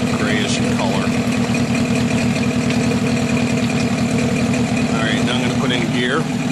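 A vehicle engine idles steadily while white-grey exhaust streams out, a loud, continuous low drone that fills the whole stretch with faint voices over it.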